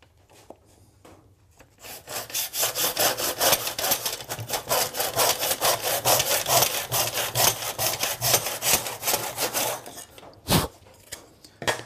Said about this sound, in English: So we'll cut a mitre, and then we cut it to length.